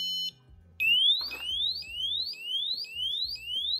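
A SQUIDD Home wireless alarm gets tapped and breaks into a loud, piercing siren of repeated rising whoops, preceded by a brief beep and a knock.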